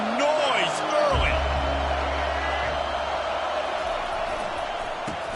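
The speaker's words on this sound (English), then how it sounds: "This crowd bringing the energy and noise early." Crowd noise fills a college football stadium during Virginia Tech vs Miami, a constant broad roar with a low rumble underneath, while a voice speaks briefly over it at the start.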